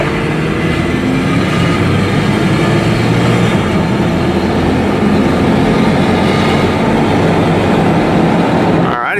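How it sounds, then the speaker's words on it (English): A loud, continuous rumbling roar of a train passing nearby, steady and heavy throughout, with no voices. "Looks like we got a train coming"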